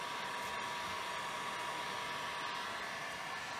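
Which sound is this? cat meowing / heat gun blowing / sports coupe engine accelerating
heat gun blowing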